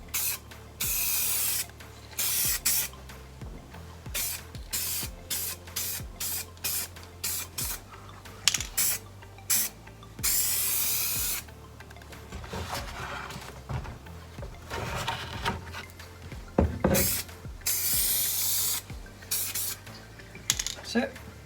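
Spray paint being applied to a Honda cafe racer seat pod: repeated short hissing bursts from an aerosol can, close and loud, separated by brief pauses and occasional faint rattles and handling noises.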